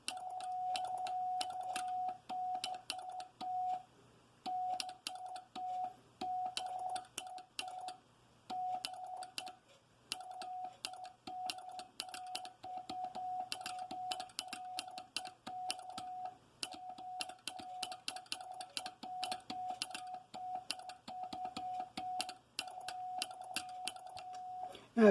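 A telegraph bug key set near the speed of a Bengali key taps out Morse code, rapid dit-dah clicking with a sidetone, running steadily and fairly quiet for about twenty-five seconds, no talk.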